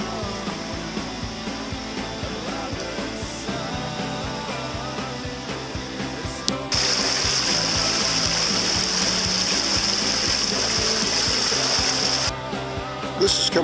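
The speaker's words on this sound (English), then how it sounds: "This is Dinosaur Creek." Dinosaur Creek in Dinosaur Valley State Park, flowing water with a steady broadband rush that grows louder partway through as the stream is approached, then eases near the end.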